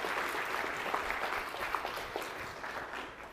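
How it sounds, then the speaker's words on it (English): An audience applauds a speaker, Dr. Cook, after a talk on coral breeding: continuous dense clapping from a crowd, steady and moderately loud throughout, tapering slightly at the end. "Big round of applause for Dr. Cook"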